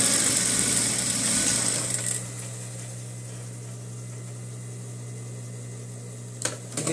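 A domestic sewing machine backstitching: a loud, steady mechanical whir for about two seconds, then stopping and leaving a quieter steady hum of room noise, with a brief clatter near the end.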